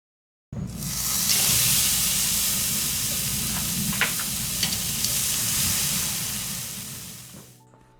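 Loud, steady sizzle of a ribeye steak searing over a hot charcoal grill, a broad continuous hiss that starts abruptly, holds close and strong with faint pops, then tapers at the end.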